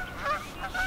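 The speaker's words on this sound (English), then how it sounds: "Canadian geese are out" Canada geese honking outdoors, two short faint nasal honks in quick succession, distant and brief.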